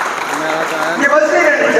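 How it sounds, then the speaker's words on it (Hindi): Crowd at an International Yoga Day ceremony in Haryana clapping loudly, a close, dense burst of applause filling the short moment and swelling slightly at the end. "जोरदार तालियां बजा दो"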